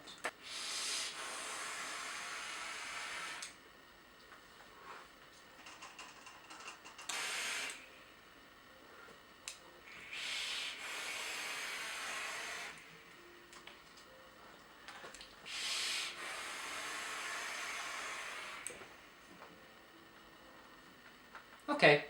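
Vapor drawn through drilled airflow holes on a Chi You clone mod, heard as several airy hissing inhales of a few seconds each separated by quiet gaps, close and fairly soft.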